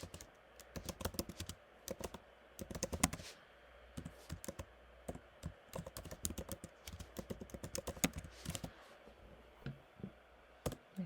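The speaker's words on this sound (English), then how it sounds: "And now you can type." Quiet, rapid keystrokes on a computer keyboard, an irregular run of light clicks and taps with brief pauses, close and faint with no talking.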